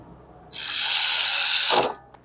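A ratchet snugs down brake caliper bolts during a brake repair, giving one rapid, buzzing burst of clicking lasting just over a second, close and fairly loud, followed by a faint click.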